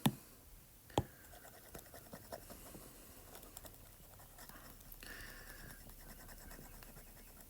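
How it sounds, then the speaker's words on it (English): A board gets wiped during a trigonometry lesson, giving faint, scattered scratching and rubbing strokes with a couple of sharp taps near the start, quiet and close. "So I'm just going to erase."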